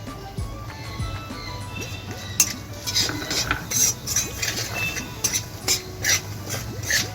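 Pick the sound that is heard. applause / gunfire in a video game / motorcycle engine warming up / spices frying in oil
spices frying in oil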